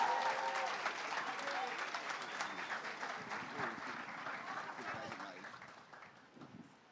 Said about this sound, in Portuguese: Mais aplausos para esse homem